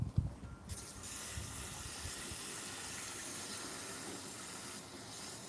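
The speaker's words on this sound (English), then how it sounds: "I'm just going to spray it all down." A spray bottle mists water over potted plants, giving a soft, continuous hiss that runs for several seconds after a brief knock at the start, fairly quiet with no talking.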